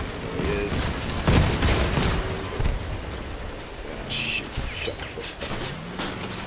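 Gunfire and heavy weapon blasts from armoured vehicles in the Crossout combat game, a loud burst near the start among dense, busy battle noise with repeated bangs throughout.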